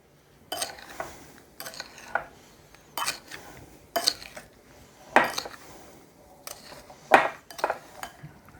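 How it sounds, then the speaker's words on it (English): Drained canned peaches are stirred with sugar in a bowl for peach cobbler, giving repeated soft scraping and clinking strokes, fairly quiet and close, in an uneven steady rhythm with no talking. "I've got 1 cup of sugar that I'm going to put in here. And I'm going to add this, then I'm going to stir this all up."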